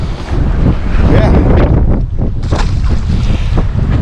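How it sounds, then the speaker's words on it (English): Steady wind roars against the microphone on a fishing boat out on a lake in the fall, a constant rushing gust with no voices. "Whew, she's windy out though."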